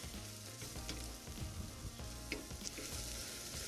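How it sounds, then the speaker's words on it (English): Tomato paste stirred with turmeric and onions in a pan over medium-high heat for a Persian celery stew, a steady sizzle with soft scraping strokes throughout and no talking. "So keep stirring the tomato paste."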